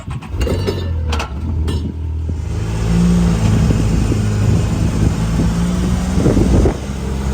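A Can-Am Maverick R side-by-side drives steadily with a loud, continuous engine drone and heavy wind buffeting, a few sharper mechanical knocks early on, running alone without talk.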